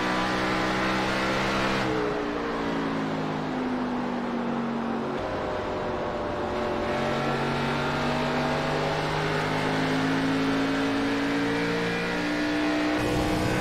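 A race car runs laps on a racetrack with a continuous loud engine drone whose pitch climbs and falls through gear changes, heard close and without talk.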